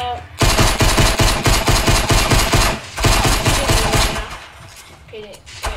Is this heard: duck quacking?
no